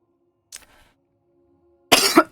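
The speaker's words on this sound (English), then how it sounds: "Oh, excuse me. And plus my coughing." A faint throat sound, then after a pause one loud, close, rough cough over a low steady hum.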